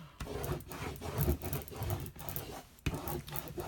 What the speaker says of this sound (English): The technique, the action that we're doing when we do this is called burnishing.